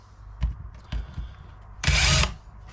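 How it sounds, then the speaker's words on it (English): A cordless power drill backing Torx screws out of a BMW E60 seat for a thigh support repair, with a few short whirring bursts followed by one longer, louder run, and no talking. "we need to take off these little Torx screws here"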